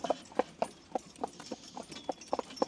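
Percheron and Belgian draft horses walk on a highway, their hooves giving a steady, evenly spaced clip-clop at close range with no voices.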